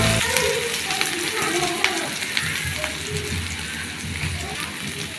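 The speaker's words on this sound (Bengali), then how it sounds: "সরিষার তেল দিয়ে দিলাম, পেঁয়াজ কুচি দিয়ে দিলাম" Chopped onion frying in hot mustard oil, a steady near sizzle and crackle with a few sharp spatula taps against the pan, and a voice speaking over it.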